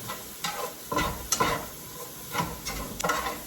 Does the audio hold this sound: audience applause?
no